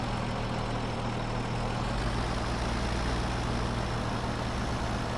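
A two-wheel drive tractor in Farming Simulator 17 runs with a steady, loud, low engine drone that holds throughout, with no talking.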